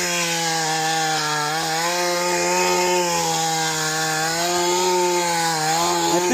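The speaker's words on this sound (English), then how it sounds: "Now it's lightweight, so if the ground is hard like this, it's going to bounce a little bit." A small lightweight tiller engine with a freshly swapped piston runs hard while digging into hard ground, a loud, buzzing two-stroke-style drone holding steady with slight pitch wavers as the tines bite and bounce.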